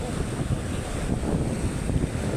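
Strong gusting wind buffets the microphone in a continuous, loud roar, with no clear speech.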